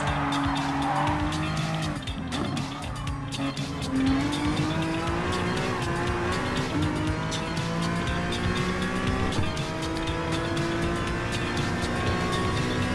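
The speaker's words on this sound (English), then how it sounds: "hope that Audi Sport Quattro was definitely still going on in first place, because modern rally cars are still trying to race hard at it" Rally cars, including an Audi Sport Quattro, racing in Gran Turismo Sport: continuous loud engine roar with shifting revs, gear changes and occasional tire squeal throughout.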